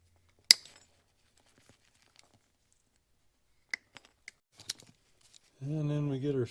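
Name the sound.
trimming old terminals off motorcycle switch wires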